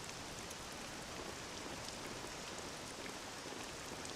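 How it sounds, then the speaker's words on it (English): Steady rain hisses as a soft, even wash of falling drops in the Dragon Quest VII video game, faint and continuous, with no voices. "This accursed rain'll chill ye to the bone"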